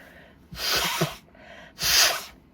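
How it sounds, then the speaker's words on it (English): Two forceful bursts of air blown through the nose, each about half a second long, close and loud, with brief quiet between them. "I'm going to have to blow my nose in front of you."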